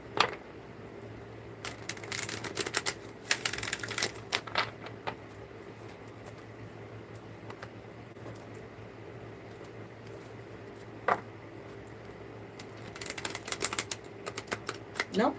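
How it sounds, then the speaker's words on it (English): Tarot cards are shuffled by hand for an on-the-spot reading. Quiet bursts of riffling and card taps come and go over soft room noise, with short pauses between shuffles. "So Stephanie, I will just start shuffling for you, my darling."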